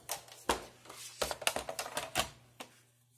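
Scrapbooking paper is cut to height in a quiet room, giving a quick run of sharp, close clicks and snips in an uneven rhythm over about three seconds.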